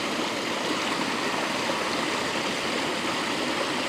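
Small waterfall spilling into rock pools, a close, steady hiss of falling water without pause or variation.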